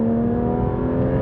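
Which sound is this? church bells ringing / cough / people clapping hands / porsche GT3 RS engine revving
porsche GT3 RS engine revving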